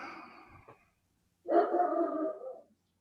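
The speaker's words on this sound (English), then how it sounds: "We get the dogs barking." Dogs barking, two drawn-out barks or howls with a short pause between them, the second louder and nearer, against a quiet background.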